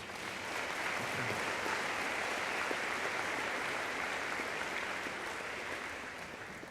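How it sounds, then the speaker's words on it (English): Graduation audience applause for the faculty, a steady wash of many hands clapping that carries on for several seconds, then tapers off slightly at the end. "let's give your faculty one more round of applause."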